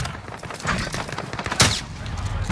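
Shotgun blasts in a first-person shooter video game, a burst of several sharp shots with one loud crack standing out midway, fairly close.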